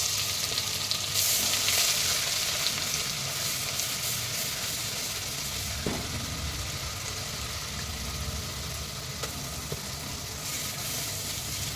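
Masala spices frying in hot oil in a pan over a low flame for Maharashtrian egg curry, a steady, continuous sizzle that stays loud and even throughout, with no voices.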